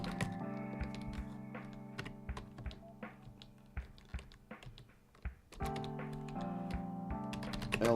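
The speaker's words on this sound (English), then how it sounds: "I was totally typing." Fast typing on a computer keyboard, with crisp key clicks in uneven bursts, mixed with steady tonal game music and occasional short pauses between runs of keystrokes.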